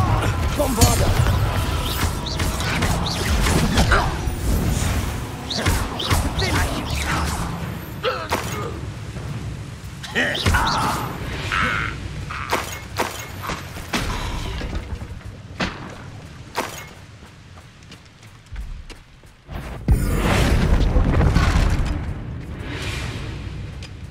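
Bombarda and Confringo spell blasts in Hogwarts Legacy combat, heavy booming thuds and whooshes repeating through a busy fight, with a loud burst near the end and brief character voices mixed in.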